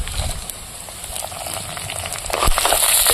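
Cumin seeds, dried red chillies and garlic sizzle in hot oil as a tempering for ridge gourd chutney: a steady, close crackling hiss that swells slightly toward the end with a sharper pop.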